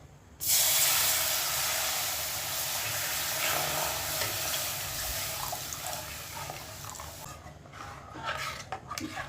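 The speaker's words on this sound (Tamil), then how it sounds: "நல்லா கிளறிட்டே இருக்கணும், இல்லைன்னா உருண்டையாக ஆகிடும்" Milk is poured over browned flour in a frying pan and stirred constantly for a creamy pasta sauce, giving a loud, continuous close hiss and sizzle with light scraping.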